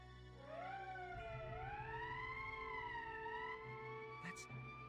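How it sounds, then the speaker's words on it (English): A rising and falling emergency siren in the video game Valkyria Chronicles wails steadily, sweeping up and down over a low rumbling background, fairly faint and distant. "That's the emergency siren."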